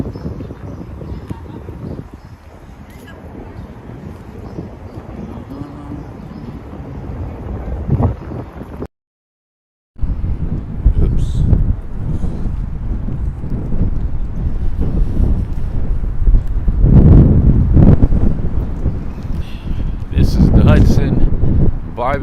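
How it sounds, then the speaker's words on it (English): Strong wind buffets the microphone in loud, rumbling gusts while a person talks outdoors in Inwood, Manhattan, with a brief dropout partway through. "I know it's super windy."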